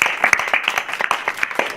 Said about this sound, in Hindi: इनके लिए भी ताली